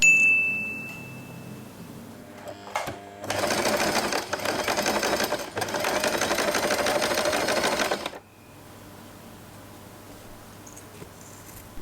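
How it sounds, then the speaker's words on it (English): A sewing machine stitches the fabric of a long-tail scrunchie in one steady, close run of about five seconds with a brief catch midway. Quiet handling comes before and after. "then sew it for finishing"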